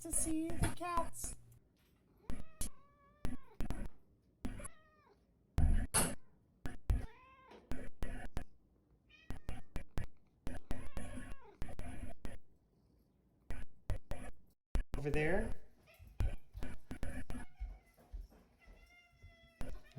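Cats meowing close by in repeated rising calls, one after another with short gaps, while a person speaks briefly between them.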